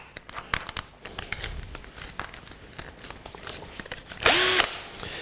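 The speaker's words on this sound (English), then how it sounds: "just get the largest drill bit you can find" A power drill fitted with the largest bit bores into a styrofoam cake base, giving one loud whining burst near the end after quieter handling, rustling and tapping.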